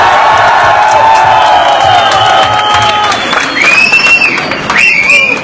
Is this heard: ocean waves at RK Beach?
no